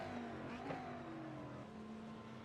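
A Lamborghini Super Trofeo race car drives on a flying lap at Autodromo Jose Carlos Pace, its engine note heard from a distance as a faint, steady whine that slowly drops in pitch.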